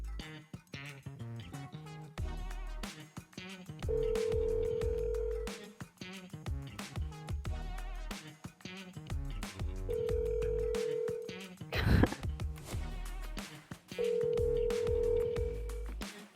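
A telephone call ringing out before going to voicemail: repeated ringback tones in evenly spaced long bursts, set against music and other sounds.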